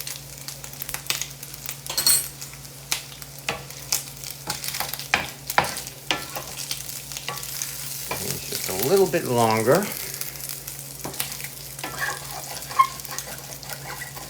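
Sausage sizzling in a cast iron skillet, a steady crackling fry with scraping and stirring noises on top, and a person talking briefly over it.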